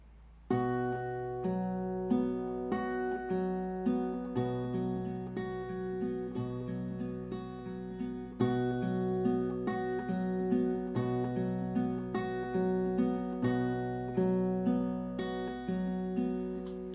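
An acoustic guitar plays a fingerpicked pattern slowly, with steady plucked notes over ringing bass tones repeating evenly throughout at moderate volume, with no voices.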